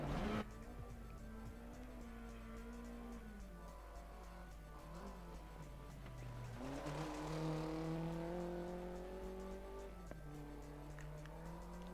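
A rally car tearing through the Finland stage of the Dirt Rally video game, its engine droning and revving up and down through gear changes, with tire noise under a steady, loud roar and no talk.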